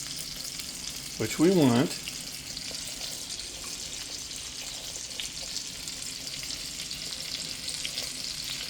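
Pork chops fry in a mix of butter, olive oil and bacon grease, giving a steady, moderately loud sizzle throughout, with a brief burst of speech near the start.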